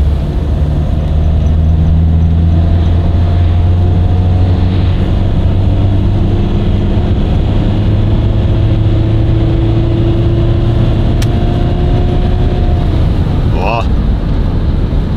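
A high-mileage van with about 442,000 km and an overdue service accelerates in fourth gear at around 2000 rpm, giving a loud, steady cabin drone whose engine tones rise slowly in pitch throughout.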